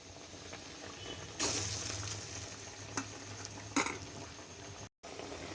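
Round bora fritters of tightly kneaded dough fry in hot oil over a lowered gas flame, giving a steady sizzle with a few louder bursts as they are stirred.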